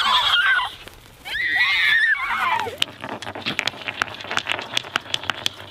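A group of children's voices imitate horses neighing, several overlapping high whinnies, followed by excited chatter and shrieks.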